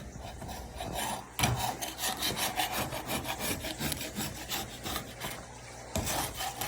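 Old coating is scraped off a snake enclosure with a scraper in a series of rough rasping strokes, close and continuous with brief pauses, and no voices.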